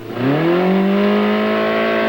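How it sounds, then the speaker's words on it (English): A car accelerating and revving on a road, the engine note climbing quickly then holding a steady, loud, close drone with no voices. "Car makers test their cars on roads."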